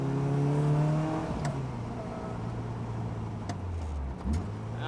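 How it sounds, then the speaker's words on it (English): A Caterham car drives along with its engine running loud and steady, then revs up with rising pitch during a test drive after a differential reinstall, heard close from inside the car. "the car is so loud to begin with"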